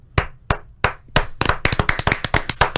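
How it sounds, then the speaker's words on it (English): A few slow, separate claps start off, then quicken into a burst of rapid clapping, close and sharp, like a small group applauding. "full round of applause"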